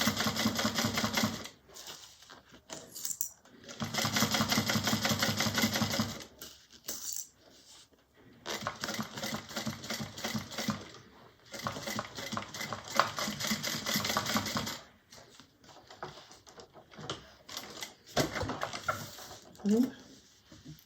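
A sewing machine back-stitches a bag in a few bursts of rapid mechanical stitching separated by pauses, with quieter handling sounds and a voice in between.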